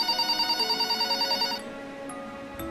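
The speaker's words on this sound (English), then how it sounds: "About an hour later, the phone on the counter rang." A phone on a shop counter rings with a rapid electronic trill in short pulses for about a second and a half, then stops, leaving a quiet room hum.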